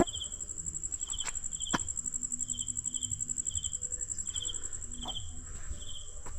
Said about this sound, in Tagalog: ang maririnig mo lang dito mga kuliglig